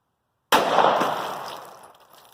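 A single close, loud 9mm pistol shot fired from a 3.1-inch barrel with U.S. Cartridge 124-grain Nosler jacketed hollow point ammunition, a sharp crack after silence followed by a long decaying ring.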